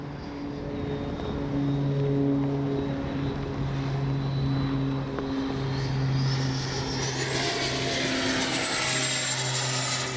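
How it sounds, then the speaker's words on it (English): FMS 80mm F-86 Sabre RC jet with an electric ducted fan flying overhead, a steady deep whooshing whine that swells and fades as it passes, loud and continuous. "This is by far one of the best sounding EDFs out there as far as 80mm."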